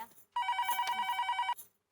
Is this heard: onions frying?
no